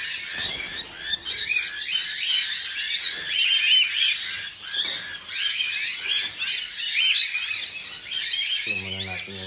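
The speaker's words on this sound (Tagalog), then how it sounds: "So ayan mga kaibon, no?" Pigeons call at a harvest, a dense chorus of chirps and coos, close and steady, that ends in a short tonal squeal at the very end, with no talk over it.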